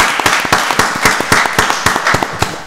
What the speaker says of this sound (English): Yeah, that deserves another round of applause.